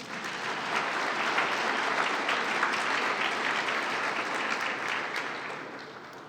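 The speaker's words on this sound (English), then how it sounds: "We can applaud the mayoral candidates." Audience at a mayoral candidate forum applauding the candidates, a broad, even wash of clapping that swells in quickly, holds for several seconds and tapers off softly at the end.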